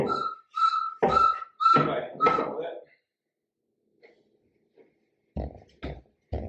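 Short, bright whistled notes come in a quick run of bursts, mixed with voice, followed by silence and a few soft knocks indoors in a kitchen under renovation.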